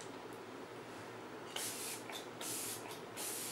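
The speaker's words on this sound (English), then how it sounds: "just going to spray my face with this." Several quick hissing spritzes of makeup setting spray misted onto a face, close and soft, in short bursts over a faint background hiss.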